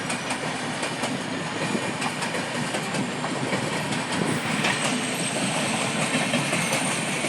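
Train running on rails, a steady loud rumble with rhythmic clickety-clack of wagon wheels continuing throughout without pause.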